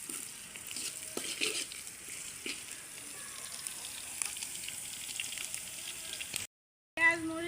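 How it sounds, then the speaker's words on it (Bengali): Onions, chillies and garlic frying in a pan for a village-style prawn and wild taro curry, a soft continuous sizzle with light stirring clicks, moderately faint, briefly cutting out before resuming. "পেঁয়াজ, মরিচ, রসুনগুলো ভাজা হয়ে গেছে"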